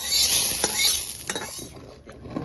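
A ladle stirs khichuri in a cooking pot, giving soft scraping and patter with faint sizzling, a few brief clinks standing out, and no one talking.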